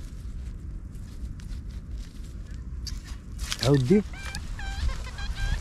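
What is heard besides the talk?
chickens clucking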